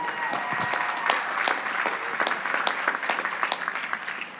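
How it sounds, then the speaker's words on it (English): Commencement audience applauding at a college graduation ceremony, a steady wash of many hands clapping with crisp individual claps standing out, sustained and fairly close throughout. "So let's give him a round of applause."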